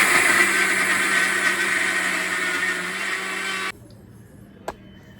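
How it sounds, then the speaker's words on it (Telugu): A kitchen mixer grinder whirs loudly and steadily while grinding sugar, cardamom, poppy seeds and peanuts, then cuts off abruptly, followed by a single faint click. "పంచదార ఇలాచి గసగసాలు వేరుశనగళ్ళు నాలుగు మిక్సీ చేస్తున్నారు"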